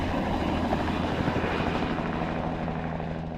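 A Bell 206 air ambulance helicopter flies close by, its steady rotor chop and turbine whine loud and continuous throughout, with no voices.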